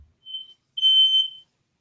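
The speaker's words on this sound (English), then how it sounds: "Fire alarm was going off" A smoke alarm sounds two shrill electronic beeps, a short one followed by a longer one, clear and isolated against near silence.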